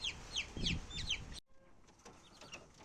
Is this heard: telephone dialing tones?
no